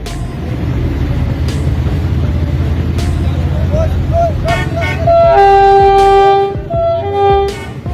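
Train passing a railway crossing in Pakistan: heavy rolling rumble and clatter, then several loud, sustained horn blasts close by near the end, with background voices.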